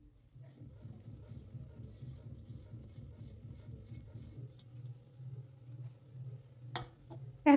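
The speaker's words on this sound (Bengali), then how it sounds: "এখন এই চালগুলোকে 6 থেকে 7 মিনিট সময় নিয়ে ভেজে নিতে হবে।" Rice grains frying and being stirred in a pan over high-to-medium heat for Basanti pulao, a soft, steady patter and scrape under low kitchen noise, ending in a brief louder clatter.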